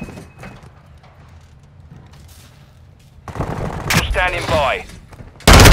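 Gunfire erupts in Call of Duty: Modern Warfare II after a quieter stretch, with loud bursts and a sharp final blast, mixed with short spoken radio-style callouts.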